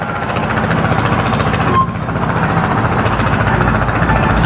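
Loud, continuous construction noise at a building site in Bangladesh, a rapid hammering clatter like a jackhammer over a rumbling engine drone, close and steady throughout with a brief dip partway.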